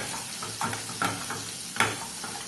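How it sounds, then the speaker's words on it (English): A utensil scrapes and stirs scrambled eggs in a frying pan, with a few distinct scraping strokes over a soft, continuous sizzle. "keep on giving it a swirl around in the frying pan"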